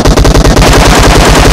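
Rapid automatic gunfire in the PUBG Mobile battle royale game, a loud close burst of evenly spaced shots rattling in quick rhythm, alone without any voices.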